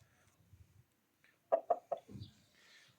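A Thai fighting rooster gives three quick, loud, clipped calls in a row, followed by lower throaty clucking and a faint rustle, with quiet surroundings before and no speech.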